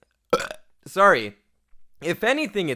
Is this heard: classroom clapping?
no